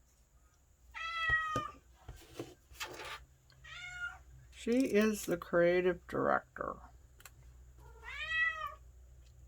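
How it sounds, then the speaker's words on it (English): A pet cat meows repeatedly indoors, several clear, separate calls of varying length spread through the stretch, close and fairly loud, with a person speaking softly between them. "oh, that's my kitty."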